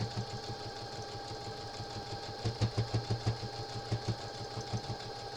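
A sewing machine stitches through rag lap quilt fabric in quick mechanical bursts, its steady needle rhythm pulsing louder in the middle and ending, heard close with no talking.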